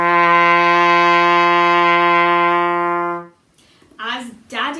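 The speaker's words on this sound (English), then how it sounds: "and this is a low pitch." A single sustained low-pitched musical note played steadily for about three seconds, rich in harmonics, loud and close, then stopping before a brief voice begins.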